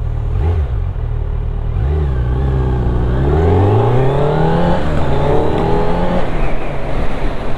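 Kawasaki Z900 A2 motorcycle engine revving hard, pitch rising through the gears in repeated climbs, loud and close with a steady droning exhaust throughout.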